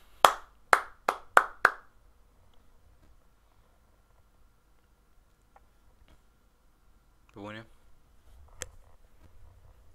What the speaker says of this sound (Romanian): Titlul ăsta merită aplauze.